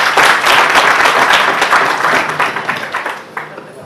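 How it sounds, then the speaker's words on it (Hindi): Sustained audience applause at a Hindi poetry recital of ghazals and geets, dense and loud at first, then thinning into scattered claps as it fades toward the end. "तालियां हो जाए प्लीज।"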